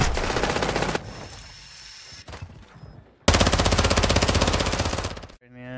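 Automatic gunfire in the video game DMZ comes as two long loud rapid bursts, the first trailing into a lull of scattered softer shots before the second, heavier burst starts abruptly and then cuts off.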